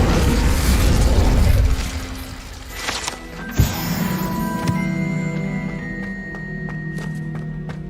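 Casting the Incendio fire spell in Hogwarts Legacy releases a loud, roaring whoosh of flame lasting under two seconds, then a sharp crack and fading magical ringing tones over quieter game ambience.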